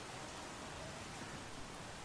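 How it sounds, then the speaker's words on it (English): Rain falling outside an open window on a July day, a soft, steady hiss of even wash with no distinct drops standing out, heard from indoors. "it's raining outside."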